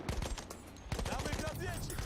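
Gunfire in Battlefield 1 on a new map, rapid bursts of automatic shots from a fast-firing weapon with a couple of quick volleys, close and punchy, over game ambience.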